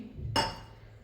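A metal kadhai clinks down onto a gas stove in a home kitchen, one sharp close metallic clank ringing briefly over low background hum before a little oil goes in.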